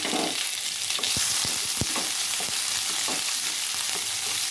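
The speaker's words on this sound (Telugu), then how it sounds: "ఇప్పుడు ఉల్లిపాయలు పచ్చిమిరపకాయలు కూడా వేసేసుకుందాం." Strong continuous sizzling as onions and green chilies fry in a pan, with occasional scraping and stirring knocks throughout.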